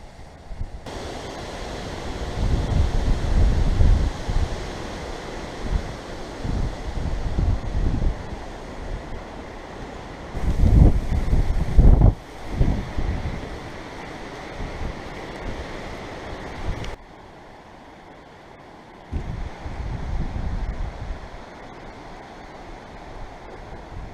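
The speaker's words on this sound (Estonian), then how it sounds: "Hästi tuuline on, meeletult torma vahepeal lausa." Strong wind buffets the microphone in loud, uneven gusts on a hike in Estonia, surging and easing, with a brief lull before it roars up again.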